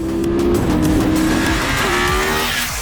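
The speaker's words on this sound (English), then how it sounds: "Also love the change in the exhaust note, which turns into this angry snarl in the higher revs." A 2022 Triumph Tiger 1200 GT Pro motorcycle engine howls at high revs, a loud, continuous, snarling exhaust note whose pitch sinks slightly as it goes.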